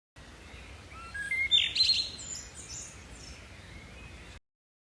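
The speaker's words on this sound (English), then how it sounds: "Benny sees a blackbird singing in a tree." A blackbird sings in a tree outdoors: a short burst of bright, rising chirps and whistles over a second or so, fairly close, against a quiet, hissy outdoor background.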